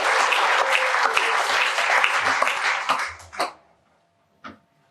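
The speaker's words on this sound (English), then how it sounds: "Can I please get everyone to clap loud," Loud, dense applause from a conference audience at a talk on hemp food nutrition, sustained for about three seconds before tapering off into silence, followed by one last short burst of claps.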